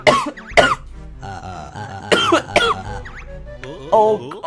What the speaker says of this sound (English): That voice! It's making me cough!